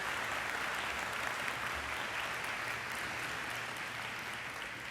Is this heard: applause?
yes